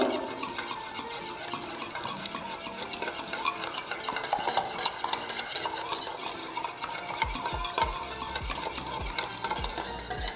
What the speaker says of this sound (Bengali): আবারও একটু বিট করে নেব